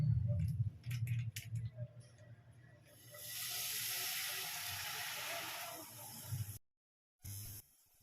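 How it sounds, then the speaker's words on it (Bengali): Milk is poured into a hot kadai after vermicelli has been fried in ghee, giving a loud, steady hiss of steam that lasts a few seconds between softer pan clatter. "এরপর কড়াইয়ের মধ্যে আমি দুধ অ্যাড করব।"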